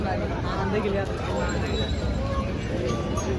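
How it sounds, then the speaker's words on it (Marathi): A crowded bull market in Dhule is filled with dense, continuous babble from many people talking close by, with occasional clinks in the background. "हे बघा गर्दी पहा तुम्ही"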